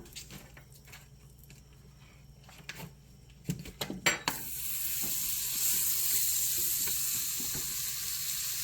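Butter sizzles in a hot frying pan, a steady hiss that swells loud after a few clattering pan and utensil knocks at the start, holding close and continuous to the end.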